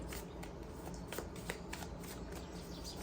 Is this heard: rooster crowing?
no